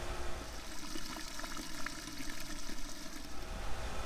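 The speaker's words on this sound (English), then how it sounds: "Skimmer is almost down to where it's just sucking air" Swimming pool skimmer almost drained, sucking a mix of air and water with a steady gurgling, slurping rush, continuous and close, with no talking.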